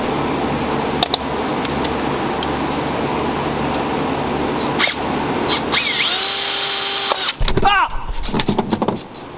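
A power drill bores holes through a round piece of plexiglass for Sony 6.5-inch speakers, the bit whining in a sustained high-pitched grind for a couple of seconds over a steady background hum.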